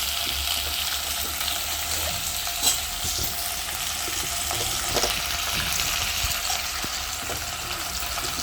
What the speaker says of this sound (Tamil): நல்லா அப்படியே ஃப்ரை பண்ணிடுங்க எல்லாத்தையும்.